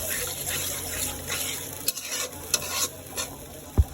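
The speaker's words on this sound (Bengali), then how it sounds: "একটু পানি দিয়ে দিচ্ছি।" Water added to a pan of frying spice paste with green chillies, bay leaves and salt sizzles steadily while a utensil stirs and scrapes, with a few sharp clinks near the end.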